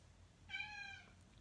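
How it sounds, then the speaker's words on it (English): A cat gives a single clear, drawn-out meow at close range, lasting about half a second, over a quiet room hum. "That's my cat."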